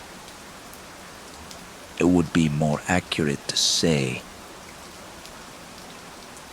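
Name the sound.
rain sounds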